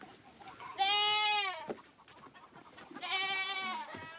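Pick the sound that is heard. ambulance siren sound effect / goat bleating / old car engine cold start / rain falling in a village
goat bleating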